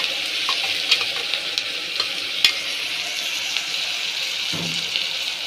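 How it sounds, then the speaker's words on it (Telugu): Ground spinach paste fries in hot oil with onions and carrot pieces for palak rice, giving a steady close sizzle with occasional stirring scrapes and no talking. "ఇప్పుడు మనం పాలకూర మిక్సీ పట్టుకున్న పాలకూర వేసుకుందాము"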